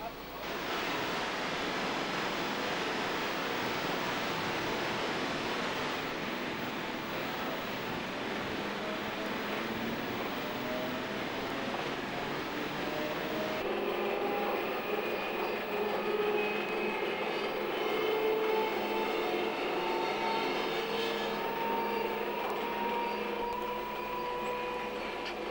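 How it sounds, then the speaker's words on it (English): Force-ventilated traction motor fans on an MOB Swiss narrow-gauge locomotive run continuously, giving a steady broadband whir with faint tonal hums that rise slightly in pitch partway through, constant and close with no talk. "Our loco has force ventilated motors. The fans run continuously, even during intermediate stops."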